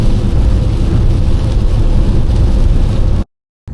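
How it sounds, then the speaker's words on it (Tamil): Heavy rain during a Chennai to Madurai road trip in a Maruti car, a loud dense rushing roar with rumble, steady for about three seconds before cutting to silence. "ஆனால் இன்னைக்கு எதிர்பார்த்ததோட நல்ல மழை வருது."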